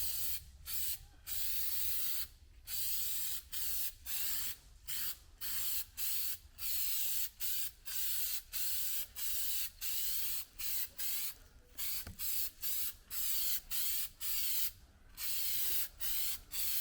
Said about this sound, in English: we're gonna spray this on there and see how it turns out